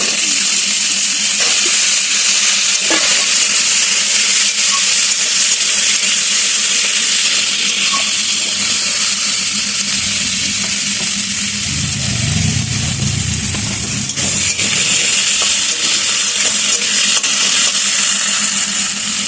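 Cut potatoes dropped into a frying pan of hot oil, a loud continuous hissing sizzle throughout with a low rumbling surge midway; no voices.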